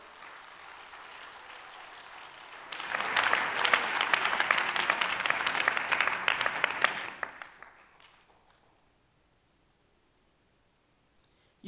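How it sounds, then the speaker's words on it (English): A church congregation claps together during a worship service, a dense burst of applause that builds in suddenly, holds loud for several seconds, then fades out into near silence. "Let's clap our hands unto the Lord."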